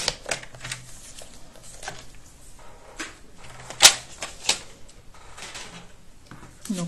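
Paper strip being cut with scissors or a cutter while making a folding scrapbook bag, a series of short crisp snips and rustles close by, with one sharper click near the middle.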